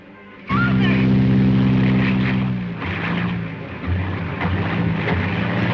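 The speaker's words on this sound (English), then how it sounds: "That Arkadin's plane's flying around up there empty?" A propeller plane drones overhead in a 1955 crime film noir scene. The engine comes in abruptly and holds a steady, loud, harmonic hum, then its pitch shifts as it passes and recedes under louder ambient noise.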